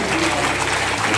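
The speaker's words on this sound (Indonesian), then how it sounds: "Terima kasih, tepuk tangan dulu semuanya." An audience at a school event for naval academy candidates in Makassar breaks into brief, dense applause, loud and close, with voices mixed in.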